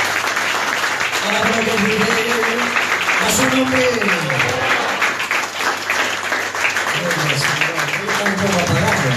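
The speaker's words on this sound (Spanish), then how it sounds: "Den ese aplauso al Señor." A church congregation applauding during a worship service, steady dense clapping throughout, with a preacher's voice speaking over it.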